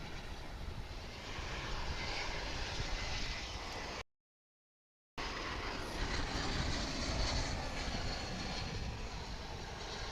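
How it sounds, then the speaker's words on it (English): Airbus A321 airliner arriving at Dallas Fort Worth International Airport, a steady broadband jet engine roar heard from a moderate distance and holding at an even level throughout, briefly interrupted by a short gap of silence. "That's American Flight 1857 arriving from Austin, Texas, an Airbus A321."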